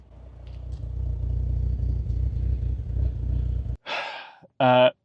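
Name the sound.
Saab 9-3 engine misfiring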